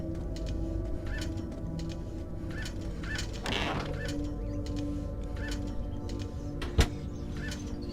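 A stuffed bird in the video game Fahrenheit squawks and clucks over steady background ambience, with a louder burst of flapping midway and a sharp knock near the end.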